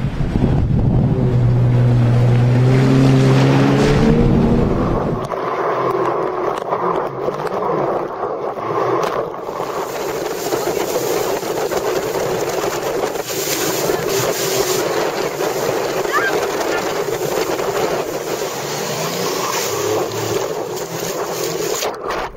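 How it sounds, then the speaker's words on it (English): A Sea-Doo personal watercraft skims across open water with a continuous loud rush of spray and hull noise, heavily buffeted by wind on the microphone, close and sustained throughout. "we've taken the SeaDoo out for a spin this morning and it's a hell of a lot of fun"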